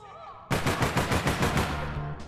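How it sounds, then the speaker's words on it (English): Gunfire in the online shooter APB Reloaded, a loud burst of rapid automatic shots, about a dozen in quick rhythm, cutting in abruptly over quieter game sounds. "Oh, I'm being shot at."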